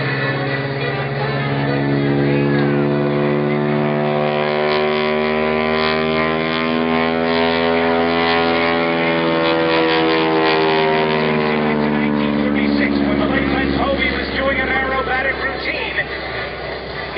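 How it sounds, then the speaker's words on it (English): A propeller airplane flying aerobatic maneuvers, including a Cuban 8, at an air show at Mt. Pleasant Airport, Indianapolis, drones loudly and steadily, its engine pitch sweeping up and down, close and continuous. "Roll the airplane upright and do the same thing in the opposite direction."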